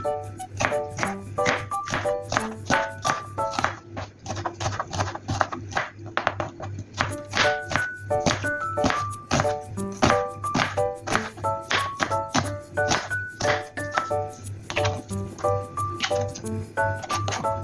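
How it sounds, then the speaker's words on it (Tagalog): A knife chops onion on a cutting board in a steady run of crisp, close, evenly spaced thuds that continue throughout, with a few short pauses and a faint hum underneath. "So, gayatin na natin ang ating sibuyas."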